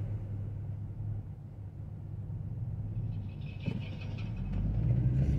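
Inside a car on the move, a steady low engine and road rumble fills the cabin, swelling slightly toward the end, with a few faint higher squeaks and no voices.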